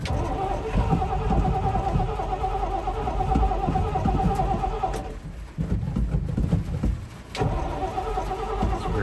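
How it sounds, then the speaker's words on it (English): An old Power Wagon era vehicle engine cranks and runs at an outdoor estate sale, a loud rough rumble that continues nearly throughout with a brief drop midway, wind buffeting in the background. "Started right up."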